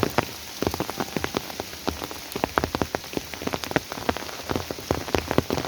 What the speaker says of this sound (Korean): 갑자기 비가 오기 시작하네요